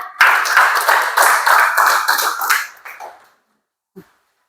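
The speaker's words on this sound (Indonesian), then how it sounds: "Kita berikan aplaus dulu untuk Mira." Students clap for a classmate in a classroom: a loud burst of many hands that keeps up for about three seconds, thins out, and ends with one last faint tap.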